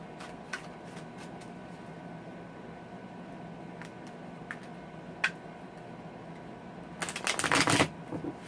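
Steampunk tarot cards are handled with soft, sparse flicks and taps over a low steady room hum, ending in a brisk, louder riffle of shuffling close by.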